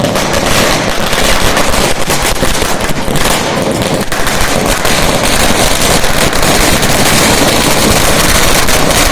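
Dense, continuous crackling bursts of fireworks and firecrackers pop rapidly and loudly for the whole stretch, with no pause, set off in celebration at a Congress party office.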